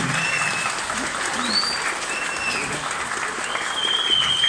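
An audience applauds for a jazz studio band at a monthly street-jazz show, with steady clapping running throughout and a few whistles and voices cutting above it.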